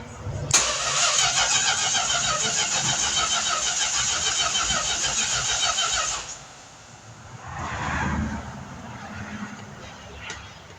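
A 1969 Plymouth Road Runner engine cranks over on its starter for its first start in over 23 years: a loud, steady whirring churn for about six seconds that then cuts off, followed by faint rustling and a brief mid-range rumble.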